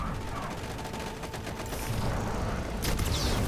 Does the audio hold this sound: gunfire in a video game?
yes